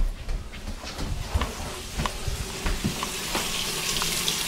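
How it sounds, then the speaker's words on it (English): A bathroom sink tap runs in a horror video game, giving a steady hiss of water with faint clinks and knocks scattered through it, moderately close. "Did you hear the sink?"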